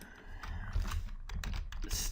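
Typing on a computer keyboard while working in software: a dense run of soft, quick key clicks, close and moderately loud, continuing steadily for a couple of seconds with no voices.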